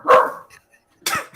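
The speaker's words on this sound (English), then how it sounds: "dog playing too." A dog barks twice, close and loud, two sharp separate barks with a short quiet gap between them.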